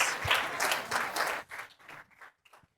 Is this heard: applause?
yes